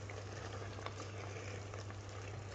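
Peanut brittle mixture stirred in a pot, a steady low bubbling and faint sizzle with soft scraping of the spoon, continuous and fairly quiet throughout.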